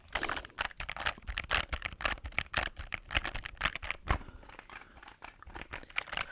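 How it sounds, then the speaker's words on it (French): Quick bursts of typing on a Wooting 60HE gaming keyboard, sharp close clicks and clacks in a fast uneven rhythm, with no voices. "voilà pour le clavier, mon petit Wooting 60H"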